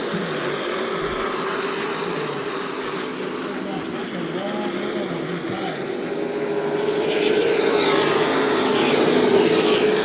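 Super Trucks roar around Myrtle Beach Speedway in a steady, loud engine drone with a rising pitch toward the end as the pack passes, heard at a distance.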